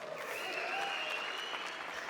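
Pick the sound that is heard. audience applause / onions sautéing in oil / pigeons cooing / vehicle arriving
audience applause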